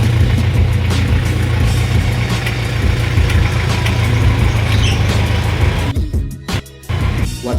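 A 1993 Daihatsu Taft's engine runs loud and steady at close range as the car is driven into a garage, then drops away and cuts off briefly near the end. No one speaks.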